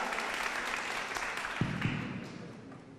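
An audience at a formal official gathering applauds in welcome, steady clapping from a room full of people that tapers off toward the end, with a few sharper claps standing out.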